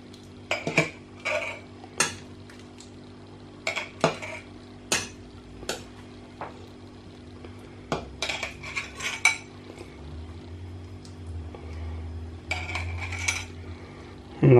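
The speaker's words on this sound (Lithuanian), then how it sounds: "Dabar greitai dedam į stiklainius" Metal utensils clink and scrape against glass jars as chopped pickled cucumbers are quickly spooned in, a rapid series of close, sharp knocks and taps with brief pauses between.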